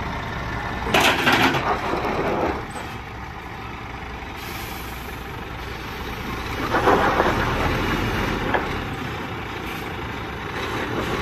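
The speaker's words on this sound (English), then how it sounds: "Oh there, bit of wheel spin." A truck's engine labours with a rough idling rumble, surging in two loud bursts as its wheels spin, with hissing bursts like air brakes between, heard nearby without speech.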